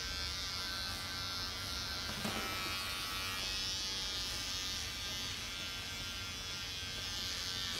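Electric hair clippers buzzing steadily while cutting a short buzz cut at home, a continuous close whine with one brief scrape partway through and no talking.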